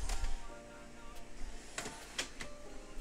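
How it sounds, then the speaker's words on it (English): Soft-close drawers glide in and out inside a Newmar Ventana 3709 Class A diesel pusher motorhome, giving faint mechanical rolling and sliding with a few soft clicks and thumps as they settle shut. "Look how smooth those drawers move in and out."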